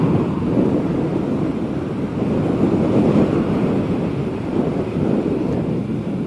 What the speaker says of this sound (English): You can probably really hear the wind blowing on us now.